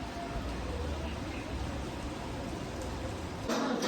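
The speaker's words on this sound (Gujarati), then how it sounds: "હજુ ચાલુ જ છે વરસાદ." Steady rain falls outside after a whole night of rain, a continuous even hiss with no break, and a louder wash near the end.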